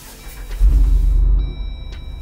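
A car engine starts with a deep, loud rumble that swells quickly and then settles into a steady idle, with no talking over it.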